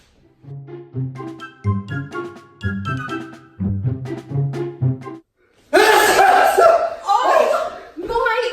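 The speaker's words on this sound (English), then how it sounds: "That's just how I sneeze." A loud, dramatic human sneeze bursts out after a stretch of talking, a harsh broadband blast followed by a second shorter outburst, much louder than the voices before it.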